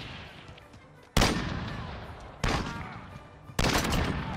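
Three loud sniper rifle shots ring out in a 3v3 snipers-only video game gunfight. Each sharp crack trails into a short echoing decay, spaced a little over a second apart with no talking.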